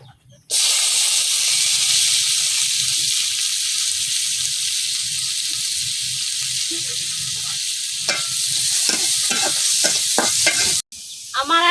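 Loud, steady sizzling of spice paste frying in hot oil left from frying tilapia and puti fish fills the clip, with occasional scraping and stirring clatter toward the end.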